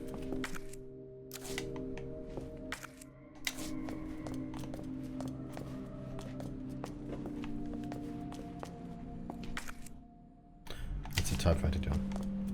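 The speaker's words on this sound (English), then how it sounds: "It's a typewriter, John." Typewriter keys in Resident Evil 2 (2019) clack in quick irregular bursts over a steady game ambience and music drone, briefly dropping out before a louder thud and rustle near the end.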